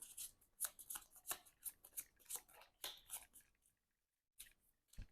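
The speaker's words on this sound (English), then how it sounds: "We decked out our invocation deck, so we shuffle these cards up back again." Deck of Marvel Champions game cards being shuffled by hand, a quick run of crisp riffling flicks and rustles, close and quiet, ending in a brief pause and one last shuffle.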